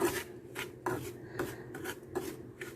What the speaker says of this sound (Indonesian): Disangrai dengan api kecil. Nah, seperti ini ya, menyangrainya.